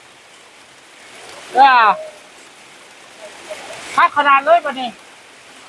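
Heavy rain pours during a storm while a volunteer crew shelters with its tools, a steady, even hiss running under two short stretches of someone speaking.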